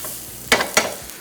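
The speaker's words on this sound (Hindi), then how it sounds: "सो गार्लिक जिंजर को पहले फ्राई करें" Garlic and ginger frying in a pan, a soft continuous sizzle broken by two sharp scraping stirs close by, with no talking.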